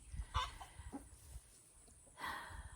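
Backyard chickens (chooks) give a few soft, nearby clucks in short bursts, separated by quiet stretches.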